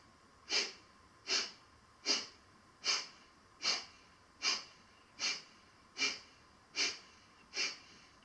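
Ten evenly spaced, sharp exhales through the nose during slow hatha yoga shoulder circles, each a short breathy puff about every three-quarters of a second, close and clear over a quiet room.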